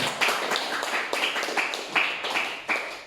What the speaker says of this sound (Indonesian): aplaus dulu untuk semua kelompok